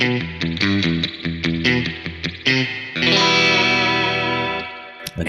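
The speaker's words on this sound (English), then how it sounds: "And spring reverb." An electric guitar plays a quick picked riff and then a sustained chord, drenched in splashy, dripping spring reverb that rings out before fading.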